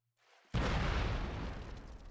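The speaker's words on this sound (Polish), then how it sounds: "Co tam wybucha?" A single loud boom bursts in after a brief quiet, then rumbles and slowly fades, an explosion in the co-op shooter game Alien Swarm: Reactive Drop.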